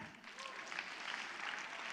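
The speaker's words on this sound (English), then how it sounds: "Clap if you heard that." An audience applauds together in a steady, continuous patter of clapping, heard from some distance.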